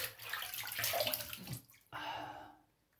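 A safety razor is rinsed under a running tap, giving a close, splashy water rush that breaks off briefly and then returns before fading out.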